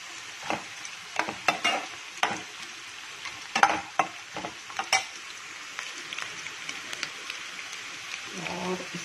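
Carrots and other vegetables for poha sizzle in a pan while a spoon scrapes and stirs them in repeated uneven strokes, close and clear, with a voice briefly near the end.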